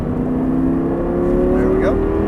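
An Audi R8 engine rises in pitch as the throttle is squeezed on a racetrack, a loud, smooth climbing drone heard from inside the car across a couple of seconds.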